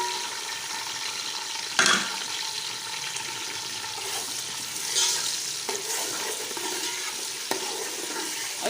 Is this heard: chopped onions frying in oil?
yes